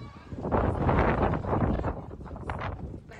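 Typhoon wind roars in strong, buffeting gusts on a coastal area near a pier, a dense rushing noise that swells and eases and then thins out toward the end.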